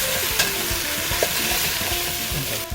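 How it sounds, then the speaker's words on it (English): Mushrooms softening in a pan with onions and garlic for risotto, a steady close sizzle with light scraping and stirring clicks, no talk. "We added our mushrooms, and we're gonna just cook those down until they're nice and soft"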